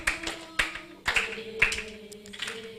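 Hands clapping at an Igbo summer camp session, a handful of loose, uneven claps spaced about half a second apart over a faint room background.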